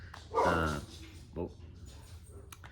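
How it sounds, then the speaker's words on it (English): A dog barks indoors, one loud close bark followed by a shorter, softer one, with a person speaking nearby. "just my dog's barking"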